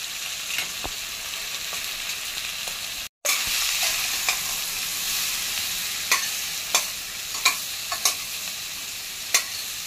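Vegetables for Mumbai-style pav bhaji sizzle steadily in a pan after a spoonful of pav bhaji masala goes in, with a short break and sharp stirring scrapes and clicks of a spoon against the pan repeating.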